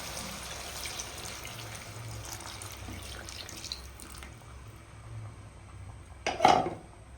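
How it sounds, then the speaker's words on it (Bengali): Spiced water poured over Bhola fish in a pan, a soft trickling pour under kitchen room noise, rising into a brief louder splash near the end. "এই মশলার জলটা আমি এখন এই মাছের মধ্যে দিয়ে দেবো"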